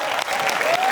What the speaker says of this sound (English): Give them a round of applause for team 1.